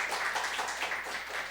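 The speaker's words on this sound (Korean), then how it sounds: "박수 한번 더 쳐주시죠" A church congregation claps at a New Year's Day thanksgiving service, producing a steady, dense patter of many hands. The applause is sustained and even, with no voices over it.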